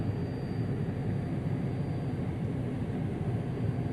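Steady low engine rumble of an airliner taxiing in the Prepar3d v4.2 flight simulator, with a constant broadband drone and a faint high whine throughout, no voices.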